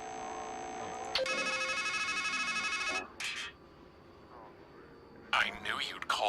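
A payphone in the game Strangeland rings with a bright electronic trill in repeated bursts, close and clear, then falls quiet as a voice speaks over a low ambient hum.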